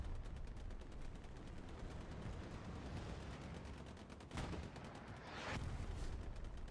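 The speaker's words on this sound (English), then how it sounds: "Artillery's doing a fantastic job." Artillery fire in the Hell Let Loose video game: continuous rumbling battle noise with rapid crackling gunfire throughout, a few louder shell bursts standing out around the middle and end, no talk.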